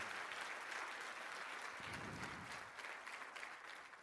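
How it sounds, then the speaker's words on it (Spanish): A church congregation applauding during a Spanish-language worship service, a steady wash of many hands clapping, distant and soft, lasting several seconds. "Denle un aplauso de gloria esta mañana"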